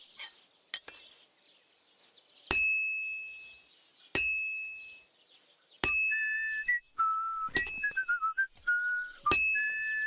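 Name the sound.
whistling in video game Kingdom Come Deliverance 2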